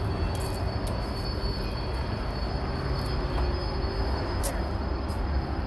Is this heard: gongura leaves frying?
no